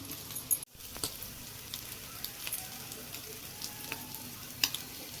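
Potato patties sizzle steadily in a hot pan on a home gas stove, a continuous crackling fry with small pops scattered throughout and one brief dropout near the start.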